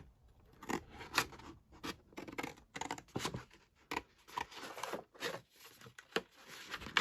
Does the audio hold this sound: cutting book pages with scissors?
yes